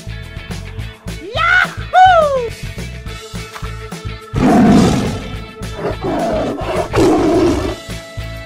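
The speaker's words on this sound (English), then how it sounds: "Orange tiger." An orange toy tiger gives a couple of rising roaring calls and then a longer growling roar over playful electronic music, loud and close, with no talk.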